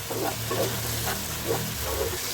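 Chicken pieces with capsicum frying in hot oil in an Indian home kitchen, a steady close sizzle with a few soft stirring scrapes and no talk.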